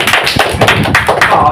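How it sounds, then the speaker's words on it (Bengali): A crowd at a Bengali health talk breaks into loud, dense clapping, close and continuous, with irregular sharp slaps over about a second and a half. "জোরে জোরে হাততালি।"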